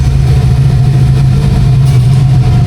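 Motorcycle engine idling while warming up in a parking area, one of a group of bikes including a 450SR, Aerox and ADV160; a steady, loud low rumble holds throughout with no talk.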